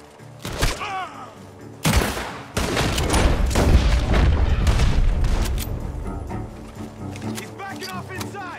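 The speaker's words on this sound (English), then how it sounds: "The gunshots are coming from that" In Red Dead Redemption 2, gunfire crackles in loud sharp shots and booming bursts, some near and some echoing, amid chaotic combat noise. Voices shout over the shooting.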